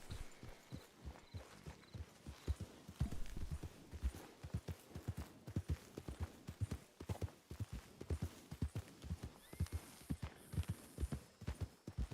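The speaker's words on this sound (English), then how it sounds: "Where did I just hear a horse?" Horse hooves clip-clop in a steady, quick rhythm of sharp knocks, fairly faint and heard on their own.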